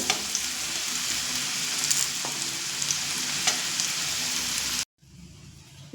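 Elephant foot yam pieces frying in white cooking oil, a steady, dense sizzle and crackle that holds close and loud for several seconds before cutting off into a quieter hiss.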